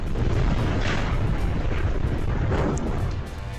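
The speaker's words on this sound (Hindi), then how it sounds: "विमान में काफी फ्यूल होने की वजह से यह धमाके के बाद आग की लपटों में बदल गया।" Roaring fire after a fuel-laden passenger plane crashed and exploded near an airport, a loud steady broadband rumble with crackling bursts throughout, no voices.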